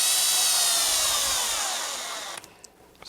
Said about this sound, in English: I'm just going to get them close and then tighten them up by hand